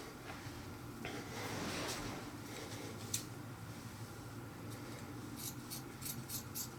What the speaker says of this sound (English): you're going to want to make a cut across here